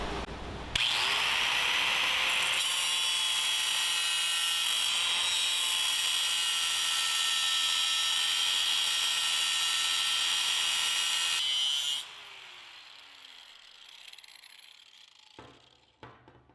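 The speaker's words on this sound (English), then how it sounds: "we're going to try to grind it so that we leave some material behind so it doesn't leak" Power grinder cutting a bracket off an R33 Skyline OEM trunk strut, a loud sustained high whine for about eleven seconds, then the tool cuts off and spins down.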